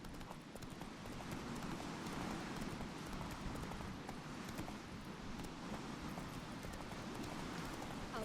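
Roach the horse galloping in The Witcher 3, a steady rapid clip-clop of hooves that runs unbroken and fairly close, blended with a dense wash of background game noise.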